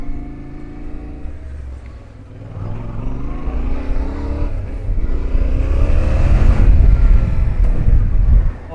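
A Yamaha T7 adventure motorcycle rolls along in gear at low revs without the clutch, its torquey engine rumbling and swelling under heavy wind buffeting on the microphone.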